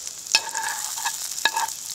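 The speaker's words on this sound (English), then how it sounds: "I just got some ghee in there and I'm gonna saute this down a little bit before I add the eggs" Mushrooms sautéing in ghee in a pan over a rocket stove, with a soft continuous sizzle and two sharp scraping clinks from stirring, no voices.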